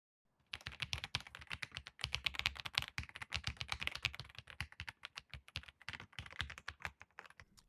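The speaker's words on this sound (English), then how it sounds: "when typing you have a really satisfying sound" Rapid, crisp keystrokes clatter steadily up close on an Epomaker Ajazz AK820 Pro mechanical keyboard, a dense run of clicky key presses with short uneven pauses.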